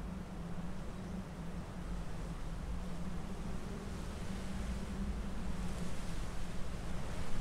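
Steady wind blowing across open water in the fishing game Russian Fishing 4, a continuous low rushing broadband noise that holds level and swells slightly toward the end, with no talk over it.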